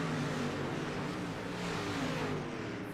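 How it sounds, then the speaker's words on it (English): Street stock cars accelerating together at the green flag at Bristol in the iRacing sim, a loud continuous engine roar from the whole field that holds steady throughout. "Andrew Hardings on the loud pedal, and we go green flag racing here at Bristol."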